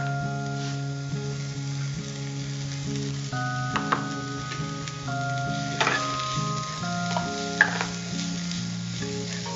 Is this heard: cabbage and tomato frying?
yes